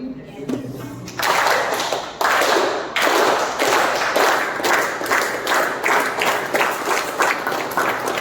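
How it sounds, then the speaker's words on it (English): An audience at an Onam club meeting breaks into a loud, sustained round of applause, dense hand clapping filling the room from about one second on, with a few scattered taps and claps at the start. "We're going to do the clap part again."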